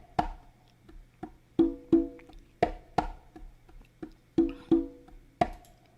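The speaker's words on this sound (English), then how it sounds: "I'm going with congas" A programmed Latin conga groove from a drum software library plays alone, sharp open tones alternating with two close slaps in a steady, unhurried pattern of about six seconds.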